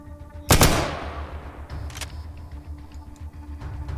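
Gunfire in an ATOM RPG video game battle: one loud, close shot with a long decaying tail, followed by a few faint clicks and thuds over a low background hum.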